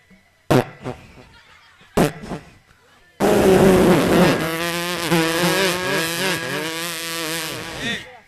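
A man on stage in a Tamil village drama imitates a fart with his voice. Two short blurts come first, then a long, loud buzzing raspberry lasting several seconds.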